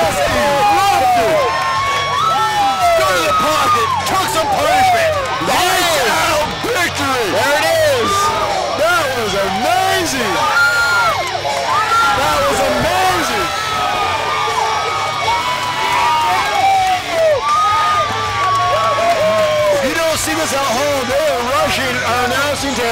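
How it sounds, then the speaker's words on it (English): A large football crowd at the Fight Under the Lights game in Great Falls roars and cheers continuously, with dense shouting, whoops and excited voices blending into a loud, sustained wall of noise throughout. "The crowd just erupted!"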